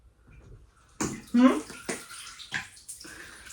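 Bathwater splashes and sloshes in a home bathtub as a child bathes, bursts of splashing coming close and loud between quieter pauses, with brief voices nearby.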